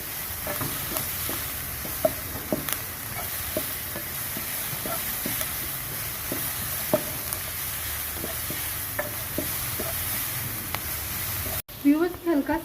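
Ingredients being stirred and sautéed with salt in a pan for a chicken roll, a steady close sizzle broken by soft scraping and clinking strokes from the spoon, alone apart from a brief clatter at the end.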